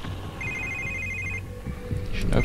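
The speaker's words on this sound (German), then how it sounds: "Telefon." A telephone rings with a bright electronic ringtone that sounds for about a second over a low background hum before fading, followed by rustling movement.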